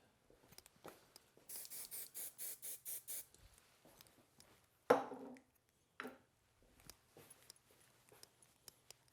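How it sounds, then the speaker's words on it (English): Hairspray from an aerosol can misted onto a client's hair during a men's haircut, heard as a run of about eight short rhythmic hissing bursts, followed by quieter handling clicks and small taps nearby. "The hairspray just adds a little bit of tack."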